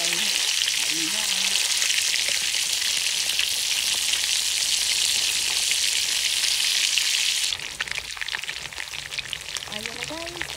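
Galunggong fish fry in a pan with a loud, crackling sizzle that drops suddenly to softer spattering near the end, while a voice speaks faintly in the background.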